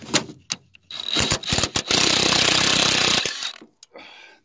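A power tool, likely an impact wrench, unscrewing a front strut bolt on a 2009 Pontiac G5, with short rattling bursts followed by a sustained loud run of about a second and a half, then brief clatter.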